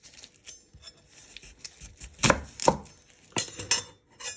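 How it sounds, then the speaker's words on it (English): A knife chops shallots on a cutting board in a few quick, close taps. The cuts come in small irregular clusters with quiet gaps between them. "You're first going to trim off your ends"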